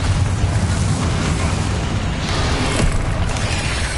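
A Confringo fire-blast spell explodes during Hogwarts Legacy video game combat, a loud, close, continuous booming roar with heavy low rumble that fills the whole stretch without letting up, with no voices over it.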